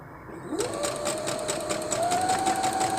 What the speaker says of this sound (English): run the prongs of the fork directly under the needle